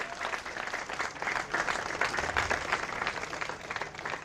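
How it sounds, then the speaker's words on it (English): An audience at a sidecar world championship sprint race podium applauds steadily, many hands clapping together in a dense, sustained burst that holds at an even level throughout. "Please give a big applause"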